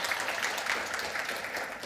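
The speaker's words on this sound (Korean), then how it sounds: "큰 박수로 강연을 부탁드리도록 하겠습니다." Audience applause welcoming a physics professor before a cosmology lecture, a short burst of dense crowd clapping at steady volume, close and continuous for under two seconds.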